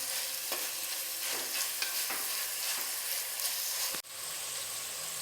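Crab sautés in a pan for a pepper fry, a steady close sizzle with frequent sharp spatula scrapes and taps against the pan, then a sudden cut into quieter sizzling; no speech.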